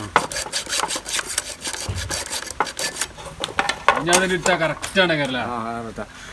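Wiring casing is cut at a 45-degree angle with quick, rasping sawing strokes close by during the first half. Someone speaks over the later part.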